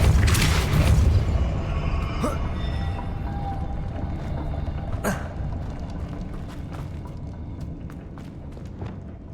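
Depulso force spell cast in Hogwarts Legacy, a sharp burst followed by a deep booming impact, then a second strong blast midway, with rumbling mechanical creaks trailing off; no talk.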